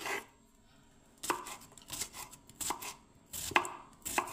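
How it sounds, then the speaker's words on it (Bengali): A knife chops through radish on a cutting board in distinct close taps, some irregular and some in quick pairs, between quiet gaps. "এই দেখুন বন্ধু, মূলোটা কাটছি এবারে"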